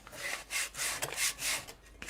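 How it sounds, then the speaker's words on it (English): Repeated rasping strokes of sandpaper sanding paint off glass, about four long passes in a steady back-and-forth rhythm, close and fairly quiet, with no voices. "So I'm sanding it through"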